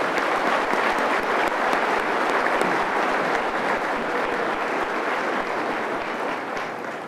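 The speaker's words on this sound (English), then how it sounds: "Please join me in a warm round of applause for our platform parties." A commencement audience at Allegany College of Maryland applauds the platform party with dense, sustained clapping that holds steady throughout and fades slightly at the close.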